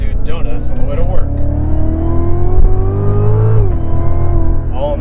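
A 2016 Cadillac CTS-V engine revs loudly while the car does donuts, a rising, wavering drone that climbs in pitch and then drops, with a voice talking over it.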